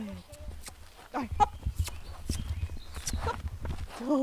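Horse hooves clip-clopping at a walk outdoors on a countryside stroll, a few light irregular hoof knocks heard alongside a man urging the horse on and background birds.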